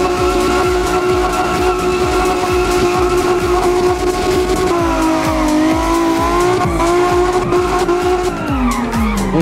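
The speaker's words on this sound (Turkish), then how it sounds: "Şaka maka iyi drift atıyorum." A car drifting in the Assetto Corsa racing game, its tires squealing continuously over a loud, steady engine drone, with the squeal pitch shifting as the slide changes.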